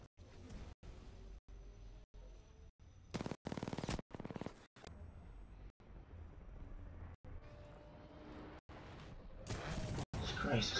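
Video game gunfire in repeated bursts with brief gaps, a heavier volley partway through and another near the end, with game noise between shots.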